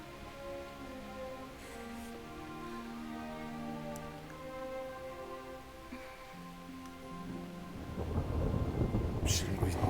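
Rain and thunder roll through a thunderstorm in the medieval video game Kingdom Come: Deliverance, with soft tonal music underneath until a loud, close thunder rumble surges in near the end.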